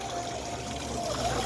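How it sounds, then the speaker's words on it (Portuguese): Water trickles and splashes steadily in a small decorative Dutch-style water mill, a soft continuous dribbling that runs without pause. "Barulhinho gostoso da água, refrescante, tranquilizante, relaxante."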